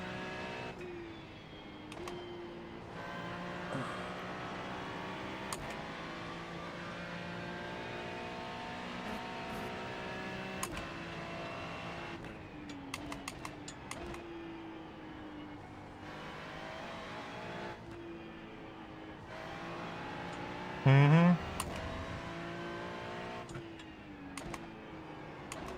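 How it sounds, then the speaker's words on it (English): A race car in iRacing at Spa roars with a sustained high engine whine, shifting pitch through gear changes and lifts, close and constant with brief clicks over it. "It looks nice, but I can't stand the sound of the engine."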